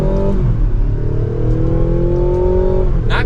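A 2024 Mazda CX-90 Premium Plus accelerates hard in sport mode in second gear, its engine note climbing steadily under load for about three seconds and heard from inside the cabin, with no talking.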